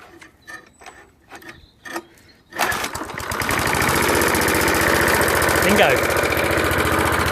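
An old Suffolk Punch 30s lawn mower with a petrol engine, idle for ten years, gets a few short pull-start tries, then catches and settles into a loud, steady run. A voice calls out briefly as it starts.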